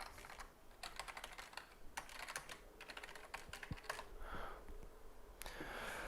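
Rapid clicking of a computer keyboard as someone types an app name into a marketplace search field, bursts of keystrokes in quick irregular runs, close and fairly quiet with no talk.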